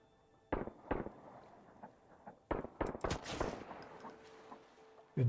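Gunfire in the survival game Sunkenland: scattered sharp shots and short rapid bursts at moderate distance, some in quick clusters, over a quiet background.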